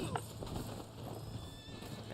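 In the Red Dead Online video game, a horse's hooves clip-clop while it whinnies, faint and under a talking voice and steady background noise.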